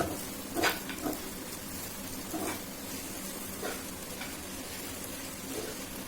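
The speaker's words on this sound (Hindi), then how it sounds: "अब इसको हम मिक्स कर देंगे अच्छे से।" Breakfast food is mixed in a pan with a low, steady sizzle and a few soft stirring scrapes, heard close but fairly quiet.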